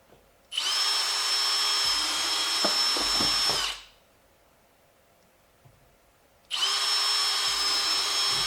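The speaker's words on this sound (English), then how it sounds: "I think this is a 15/64 inch drill bit" A power drill with a 15/64 inch bit whines steadily for about three seconds, stops, then starts up again after a pause. It is loud and close, with no voices.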